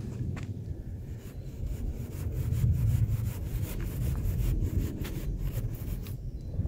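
A hand saw cuts through a basalt mineral wool slab at a construction site, rhythmic rasping strokes repeating close by, with some wind noise and no talk.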